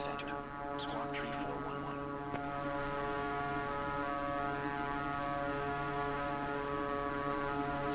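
Steady turboprop drone of a Beechcraft C90 GTX King Air in Microsoft Flight Simulator 2024, a constant tonal hum with whining harmonics holding at an even, moderate level throughout, no speech.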